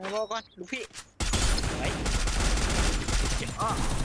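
Dense automatic gunfire in the mobile shooter Free Fire bursts in suddenly after a voice speaks briefly. The shots then run as a loud, continuous rattle of rapid overlapping rounds, with faint voices underneath.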